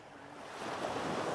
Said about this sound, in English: So this is the little beach when you first come up.